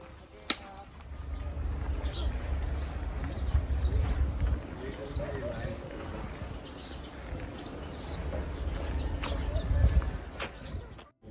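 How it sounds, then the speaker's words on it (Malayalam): Birds chirp by a roadside in Karzakan, Bahrain, with short, bright calls repeating at intervals over a steady low rumble of traffic or wind. "കിളികളുടെ ശബ്ദം ഇവിടെ നമുക്ക് നന്നായിട്ട് കേൾക്കാൻ പറ്റും ഒത്തിരി കിളികൾ ഇവിടെ എവിടെയോ ഉണ്ടെന്നാണ് തോന്നുന്നത്"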